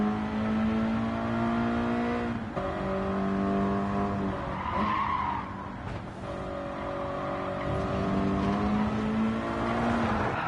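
Subaru BRZ engine in Gran Turismo 7 revs steadily under hard racing, with a sustained droning note, shifting pitch and tire skids during a sport-mode race.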